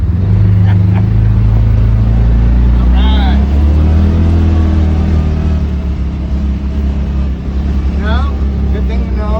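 A side-by-side utility vehicle runs in four-wheel drive on a countryside ride, its engine a loud, steady low drone throughout with people talking over it.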